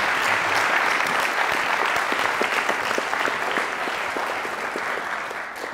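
An audience applauds to welcome a speaker at a macroeconomic policy talk, sustained dense clapping from a large crowd that slowly tapers toward the end.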